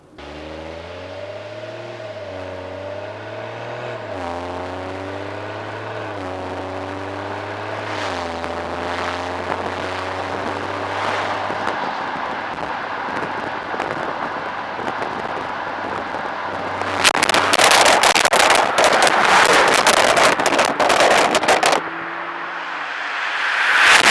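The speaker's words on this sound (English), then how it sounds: "We're going to drop some gears, and you're going to hear the burbles and pops." A BMW X3 M40i in Sport Plus with the engine droning and shifting pitch as gears drop, then a long loud stretch of crackling exhaust burbles and pops before the engine sound swells again, with no talk.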